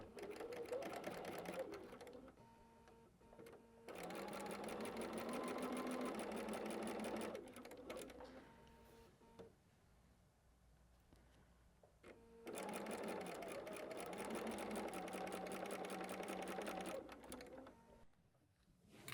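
A sewing machine chain-piecing quilt sections runs in long, steady, rapid stitching bursts, with two sustained runs separated by quieter pauses. The machine is heard close up, with no talk over it.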